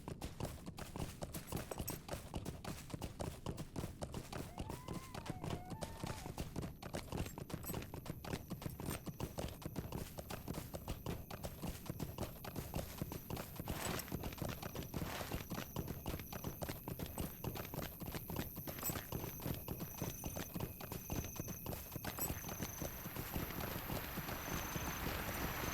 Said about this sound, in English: Beautiful horse